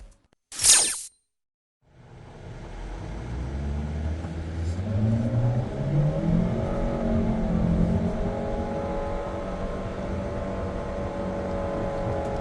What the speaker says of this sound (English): I do not like the sound of the CVT transmission on hard acceleration.